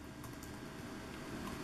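Quiet key presses on a small 7-inch OneGx1 mini laptop keyboard, a brief run of soft clicks heard close up against faint background hiss, with no voices.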